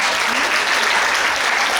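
An audience at a Balinese-language speech competition breaks into strong applause, a close, dense and uniform roar of clapping hands that fills the whole stretch with no speaking.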